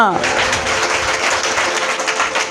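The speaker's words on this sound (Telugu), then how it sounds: "గట్టిగా చప్పట్లు కొడదామా" A church congregation in Vikarabad claps loudly and steadily, a dense wash of applause running under a preacher's continuing voice.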